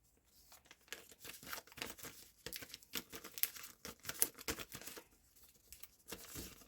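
Paper packets rustle and crinkle as they are shuffled together, a busy run of crisp rattling bursts with short pauses, close by.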